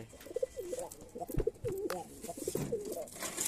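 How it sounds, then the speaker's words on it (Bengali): Domestic pigeons coming down to land near a home loft coo in quick overlapping phrases, fairly faint, with scattered thumps and flutter-like bursts in the background. "এই যে পায়রাগুলো এখন নামবে"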